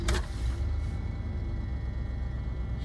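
A cold Range Rover 4.6 HSE V8 turns over with a quick crank and fires straight into a low, steady idle rumble that runs on evenly, close by.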